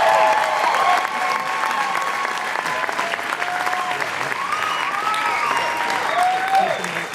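An audience claps and cheers steadily for the Giants starting pitchers at a team town hall event, sustained applause filling the room with no break.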